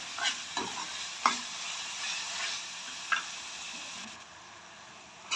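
Tadka for pav bhaji sizzling steadily in a pan, a soft continuous frying hiss broken by a few sharp clinks and scrapes of a spoon stirring, with no voices.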